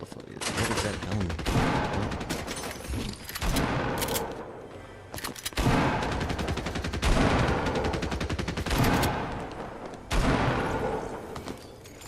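Rapid bursts of gunfire from a weapon in the video game Fortnite, loud and close, coming in dense clusters with short gaps over a continuous game soundscape.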